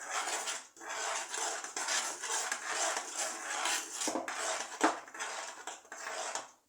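Continuous clinking and scraping of a utensil stirring cocoa and sugar into boiling milk in a pot, with rhythmic strokes and a bubbling, hissing background.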